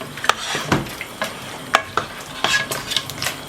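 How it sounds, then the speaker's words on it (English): Chicken stew being stirred in a pot while it fries and steams, with a spoon scraping and knocking against the pot in irregular strokes over a soft sizzle, close up and with no talking. "So I'm going to mix it a little bit,"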